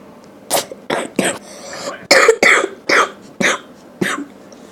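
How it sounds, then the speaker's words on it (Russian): A sick person coughs close and loud in a run of about nine harsh, uneven bursts, with a little throat-clearing between them and no speech. "Извиняйте за кашель, потому что я болею."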